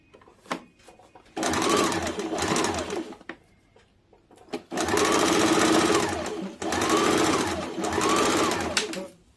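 A sewing machine stitches a dart in a plain blouse, running in three long bursts of rapid, loud whirring broken by short quiet pauses and light handling clicks.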